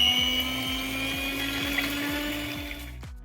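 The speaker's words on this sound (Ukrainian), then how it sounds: "І починаємо взбивати на маленькій швидкості" An electric mixer beats six eggs with a little salt at low speed, a steady close whirring whine with a rhythmic chugging pulse that cuts off near the end, with no talking.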